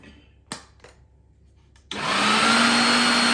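A meat grinder minces herring, butter, onion, egg and apple. A couple of sharp knocks come first, then the motor kicks in as a loud, steady, close whirring drone.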